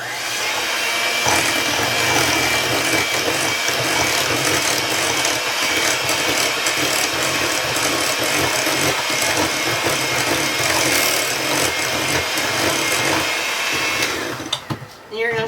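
Muffin batter with milk is mixed in a bowl, a loud, steady, close-up whirring and grinding churn that runs almost unbroken and stops abruptly near the end, with a voice talking at times.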